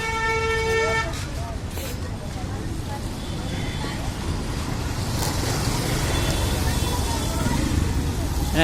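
A car horn sounds one sustained honk of about a second, then gives way to the dense rush of a Chennai street jammed with two-wheelers, buses, cars and autos; people talk nearby.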